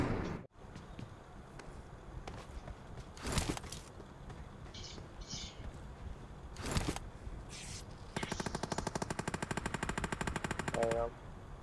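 Gunfire from the battle royale game PUBG Mobile: a few isolated loud shots, then a sustained rapid automatic burst near the end, over steady game ambience.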